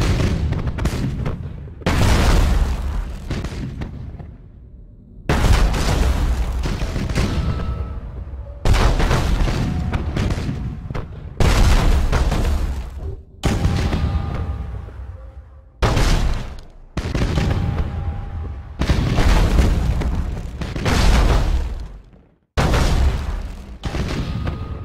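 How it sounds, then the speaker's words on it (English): Broadside macro cannons in the space-combat game Battlefleet Gothic: Armada pound a station in a long run of heavy, booming volleys, each burst loud and rumbling, separated by brief gaps as the barrage continues until the station is destroyed. "Broadside macro cannons ready to fire on your order"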